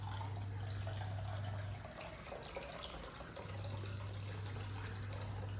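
Water runs steadily into a bowl while cooking prawn semiya, a continuous close splashing stream with a low hum under it and no talk.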